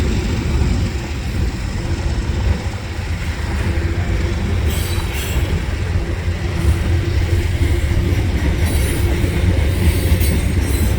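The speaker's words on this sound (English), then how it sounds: "Not often that I see a CN freight coming along, also westbound at the same time." A westbound CN freight train rolls past at Dorval with a loud, steady rumble and clattering wheels, close by and continuous, with brief metallic squeals near the end.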